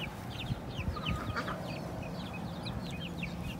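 Hens clucking and chirping close by in a backyard coop, a scattered series of short, bright calls over a low background rumble, with no talking.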